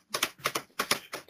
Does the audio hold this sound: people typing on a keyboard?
yes